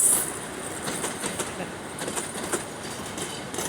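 A train rolls through Shyampur railway station with a steady rumble and repeated clickety-clack wheel beats, fairly loud and close, a high squeal right at the start.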